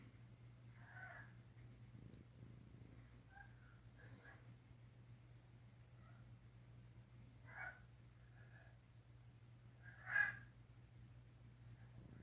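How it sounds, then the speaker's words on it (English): A blue jay calls from about 30 yards away in woods during a squirrel hunt. The harsh, faint cries come several times at spaced intervals, with one louder call near the end. "So that's the blue jay."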